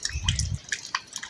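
Water drips from a tap at a Hanuman temple in Belora village, giving a few quick, close wet drops and splashes over a short moment.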